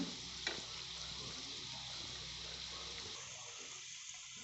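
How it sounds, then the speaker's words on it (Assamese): Coconut and semolina mix is stirred in hot oil over low heat for coconut suji laddu, producing a soft, even frying hiss with a faint scrape of the spoon near the start. "এতিয়া মই এনেকৈ লৰাই দিম"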